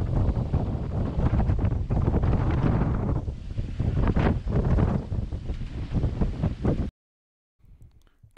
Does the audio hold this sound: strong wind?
yes